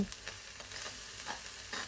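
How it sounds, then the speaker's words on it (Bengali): Ground spices frying in oil for a country chicken bhuna curry, heard as a quiet, continuous hiss with soft stirring scrapes, close but low in level, with no voices. "এখন আমি মশলাটা ভাজা ভাজা করব"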